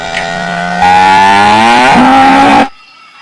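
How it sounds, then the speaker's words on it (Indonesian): A dairy cow gives one long, loud moo lasting over two seconds, rising and steady before cutting off abruptly, heard alone at close range with no talking. "ini sapi perah teman-teman"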